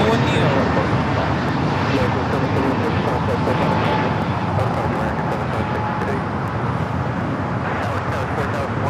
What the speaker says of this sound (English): American Airlines 776 taking off to Philadelphia on the A321neo